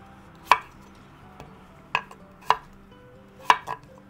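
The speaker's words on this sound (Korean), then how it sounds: "호박은 너무 흐물거릴 수 있기 때문에 얇지 않게 썰어주시는 게 좋을 것 같아요." A knife cuts zucchini and potatoes on a cutting board with sharp, separate chops spaced unevenly, about five clear strikes, close and distinct with no talking.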